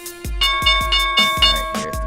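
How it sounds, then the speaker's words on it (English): Opening bell for a live futures day-trading session, a bright tone with broadband attacks repeating about eight times in a quick steady rhythm, each strike over a long sustained ring, loud and alone. "here's the bell"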